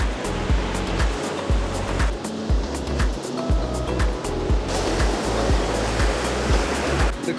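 Ocean surf on a beach in Mexico, a steady broadband wash of breaking waves rolling in continuously and loudly, with low rumbling surges recurring throughout and no talk.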